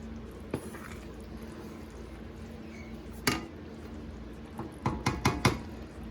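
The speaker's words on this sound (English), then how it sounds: "I want to continue to stir even though I've turned off the heat because that pan is still very, very hot." Blackberry jam stirred in a hot pan after the heat is off: a few scattered spoon knocks and clinks against the pan, then a quick cluster of scraping taps near the end over a quiet background.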